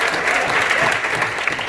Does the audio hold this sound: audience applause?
yes